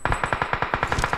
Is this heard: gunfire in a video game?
yes